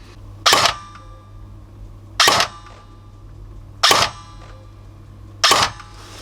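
An Evolution electronic paintball trigger with no pre-cocking clicks four times at even intervals of about a second and a half, each a single sharp, close snap over a faint steady hum.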